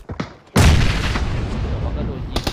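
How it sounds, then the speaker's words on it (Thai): Grenade blast during a PUBG esports match: one loud boom bursts in sharply and leaves a long rumbling roar behind it, with faint earlier pops and a quick crack at the end. "ระเบิดไปแล้ว"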